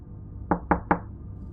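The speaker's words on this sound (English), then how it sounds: "Another knock answered him." Three sharp, evenly spaced knocks on a wooden cabin door, close and loud, standing alone over a low background rumble.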